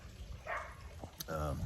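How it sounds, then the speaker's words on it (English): A dog barks a couple of times nearby, short sharp yips against a noisy background with some voice-like sounds. "That's a dog barking."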